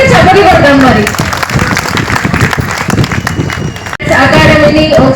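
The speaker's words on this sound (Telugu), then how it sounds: "దానికి కూడా ఒకసారి గట్టిగా చప్పట్లు కొడదాం" Loud audience applause at an Ugadi festival stage event, dense clapping filling the scene with a brief dip near the end, while voices and crowd noise mix in throughout.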